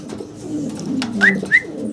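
Pigeons at a wholesale pigeon dealer coo in a low, steady rumbling murmur close by, with two short higher chirps breaking through near the end.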